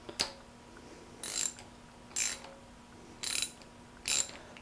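Ratchet tightening the thermostat housing bolt on a Jeep 4.0 engine, five short clicking bursts at a steady rhythm, close and fairly quiet, no talk.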